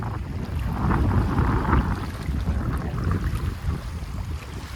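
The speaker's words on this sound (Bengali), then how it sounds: "আর এখানে অনেক বাতাস, আমি আজকে আসলে মাইক্রোফোনটা আনি নাই" Strong wind blows by the sea at the Jubail shore on the Strait of Hormuz, buffeting the microphone in a loud, continuous low roar with gusty swells and a faint wash of waves beneath, no voices.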